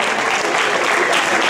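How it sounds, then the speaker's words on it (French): A crowd at a tournament prize-giving ceremony breaks into loud, sustained applause, a dense wash of clapping that fills the whole moment. "Allez, on peut les applaudir."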